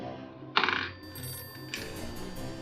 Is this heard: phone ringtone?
yes